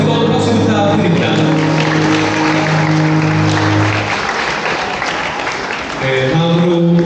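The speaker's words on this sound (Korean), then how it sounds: "여러분 뜨거운 박수 부탁드립니다" Wedding guests applaud during the ring exchange at an indoor ceremony, clapping spreading under sustained music and a voice, the applause swelling across the middle and easing as the music returns.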